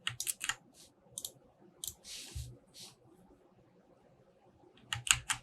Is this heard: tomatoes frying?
no